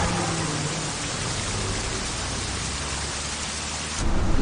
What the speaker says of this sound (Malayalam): ഭയങ്കര മഴ. വയനാട്